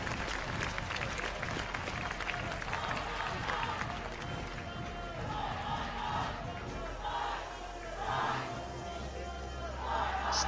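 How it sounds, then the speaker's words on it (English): Teammates and fans in the crowd cheer during a women's recurve team archery bronze match between Great Britain and China in Den Bosch, a steady roar of clapping and shouting with swells of louder cheers, mixed with voices. "their teammates and fans in the crowd cheer them on"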